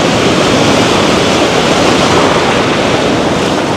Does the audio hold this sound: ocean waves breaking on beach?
yes